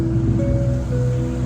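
Sea waves heard from a boat near Kanipo Island in Coron, a loud, continuous wash of surf and water mixed with wind buffeting the microphone and a low engine-like hum, with no talking.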